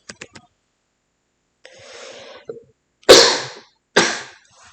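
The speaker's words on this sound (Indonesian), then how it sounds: "sedikit mengganggu karena saya sedang sakit batuk pilek" Harsh, breathy coughs from a person with a cold, a few close bursts with short gaps between them, heard alone in a quiet room with no talk over them.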